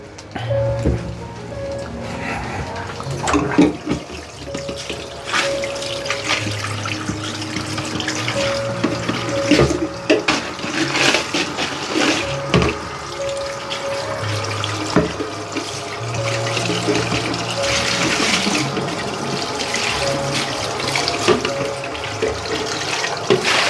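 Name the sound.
tap water running while washing a container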